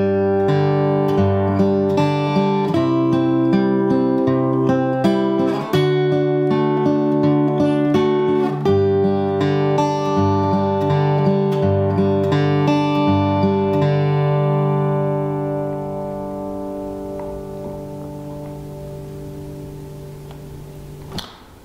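Slow fingerstyle acoustic guitar rendition of "Joy To The World", with steady plucked notes and chords ringing clearly, played alone without talk, ending in a sustained chord that fades out.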